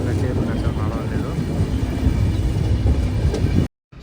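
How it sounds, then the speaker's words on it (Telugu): A passenger train on the Tirupati to Vijayawada line, pulled by an old locomotive, rumbles along with a loud, continuous low roar and rattling of the carriages, ending in an abrupt cut. "మన ట్రైన్ అయితే బయలుదేరిపోయింది."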